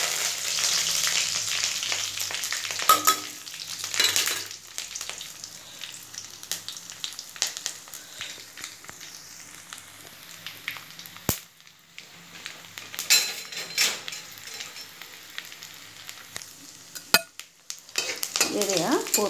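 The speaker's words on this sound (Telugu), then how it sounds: "ఎండుమిరపకాయ, పోపులు, జీలకర్ర, ఆవాలు, మినపప్పు, శనగపప్పు పోపులు, ఎల్లుల్లిపాయ జంట, కరివేపాకు, వేస్తాను." Tempering of dried red chillies, cumin, mustard seeds, urad and chana dal, garlic and curry leaves sizzles and crackles in hot oil, with scattered sharp pops and stirring scrapes throughout.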